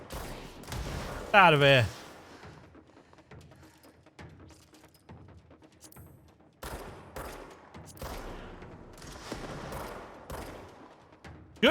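Scattered gunfire in the Control video game, with bursts of shots and impacts spread across the stretch amid game effects, while someone speaks briefly.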